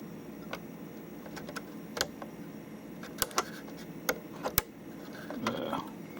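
Keys on a computer keyboard are pressed in sparse, irregular taps, with a few sharper clicks standing out over a low background hum; quiet and close, with no talk.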